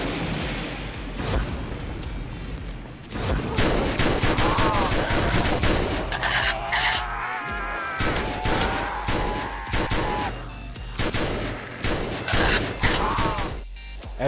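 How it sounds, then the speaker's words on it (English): Dual akimbo pistols firing in the UGX Mod video game, two weapons shooting independently in dense, rapid, overlapping bursts of loud shots that run almost continuously. "I am firing the weapons completely independently of each other"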